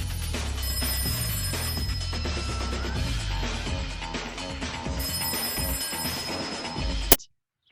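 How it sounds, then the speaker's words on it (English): A telephone ringing in the film The Matrix, a loud continuous ring laid over dense music, cutting off abruptly into silence at the end. "The ringing of the phones is always louder than the music, breaking the silence or causing it."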